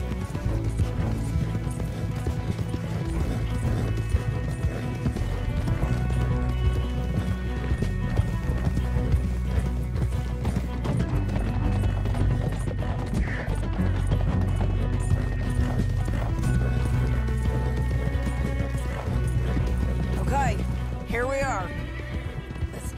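Horses gallop with steady clip-clop hoofbeats under music in Red Dead Redemption 2, and a horse whinnies near the end.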